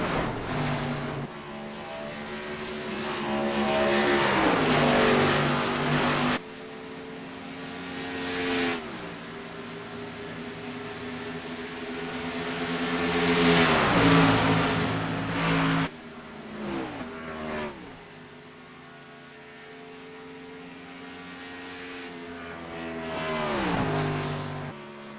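Sim-racing B-Car series cars at Chicagoland Speedway roar loudly through the corners, with engine notes that rise, fall and shift gear and several cars sweeping past in turn, with no voices over them.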